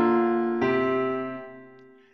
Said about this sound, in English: On a diatonic keyboard, they sound like this.